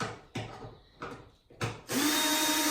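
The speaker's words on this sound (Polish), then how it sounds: "nasadką siódemeczką odkręcamy" A power tool with a 7 mm socket backs bolts out of a rear Jeep Wrangler JL bumper, several short close whirring bursts followed by one longer sustained run.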